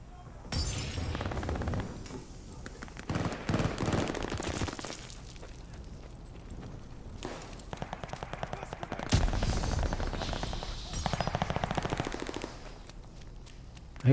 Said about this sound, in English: I hear bullets, but I don't see him